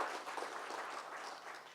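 Applause at a corporate gathering, a steady wash of many hands clapping, fairly faint and even throughout.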